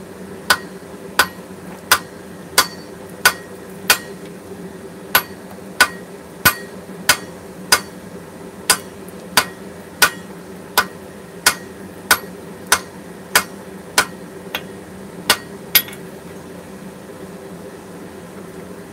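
Steady hammer blows forging a steel sword blank, drawing the bar out longer and thinner; about twenty sharp, evenly spaced ringing strikes land roughly once a second over a low workshop hum.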